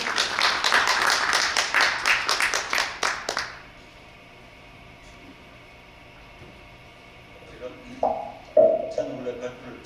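A conference audience at an international media and information literacy event claps in a dense burst of applause for several seconds, which stops abruptly, leaving quiet room tone and a few faint bumps and a voice afterward.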